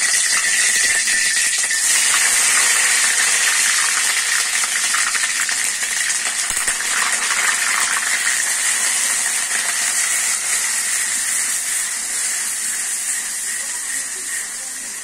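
Garlic and onion paste frying in pure mustard oil, a steady bright hiss and sizzle that holds loud and even throughout, easing slightly toward the end.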